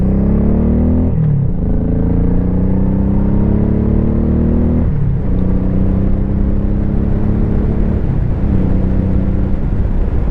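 A 2001 Honda Shadow Sabre 1100 motorcycle cruises at about 60 mph, its engine giving a loud, steady drone with smooth harmonics that dip briefly at a few moments, continuous throughout with no talking.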